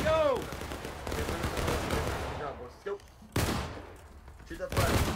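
Musket volleys crackle through a War of Rights battle, dense overlapping shots rolling in repeated bursts with sharp nearby cracks and distant fusillades, while voices shout over the gunfire.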